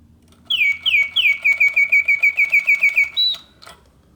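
A vintage Reuge mechanical singing-bird automaton in a double cage trills a quick series of about a dozen bright, evenly spaced whistled chirps, then rises to a sharper high note and stops, heard close and alone.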